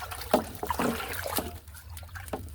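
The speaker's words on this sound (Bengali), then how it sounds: "আমরা ঢেলে নিচ্ছি অ্যামাকর।" Liquid pesticide Amacor poured for mixing in a mango orchard, giving a close, uneven trickle and splash that comes and goes in short bursts.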